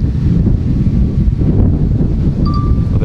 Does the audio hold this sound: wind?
yes